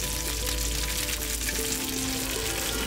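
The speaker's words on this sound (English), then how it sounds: "Then I'll place in the pieces of chicken, skin side down. And cook until the skin is a golden brown" Chicken pieces laid skin side down in a hot pan sear inside a wood-fired oven, giving a steady, even sizzle and crackle that holds without a break and with no talking.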